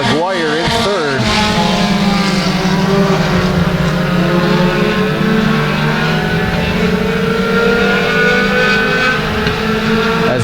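A pack of mini stock race cars on a dirt track roars loudly and steadily, with revving swells near the start. A commentator talks continuously over the engines.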